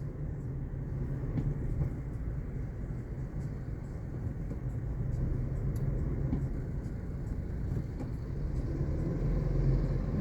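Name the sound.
heavy traffic on NAIA Expressway skyway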